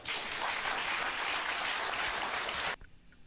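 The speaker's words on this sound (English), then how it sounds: "It's like they're forced to clap." A studio audience claps steadily on a TV show, dense sustained applause that stops abruptly near the end, leaving a quiet room tail.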